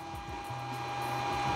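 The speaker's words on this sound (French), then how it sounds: "le ventilo fait beaucoup de bruit" Small cooling fan on a 3D printer's electronics, running loud with a steady whine and hum that holds throughout, joined partway by a low motor tone.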